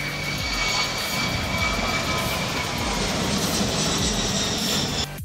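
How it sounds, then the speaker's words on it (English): Douglas DC-10 wide-body jet converted into a firefighting air tanker, producing a loud, continuous engine roar close by that cuts off abruptly at the end. "The Douglas DC-10, known as the Size Queen, is a legendary wide-body jet aircraft that changed aviation."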